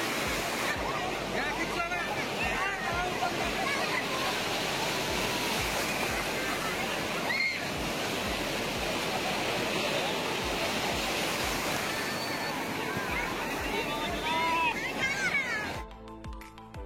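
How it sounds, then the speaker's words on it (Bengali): A big sea wave breaks on the beach at Digha in a loud, continuous roar of surf that fills the whole stretch, with voices talking over the crashing water. "এই একটা বড় ঢেউ আসছে।"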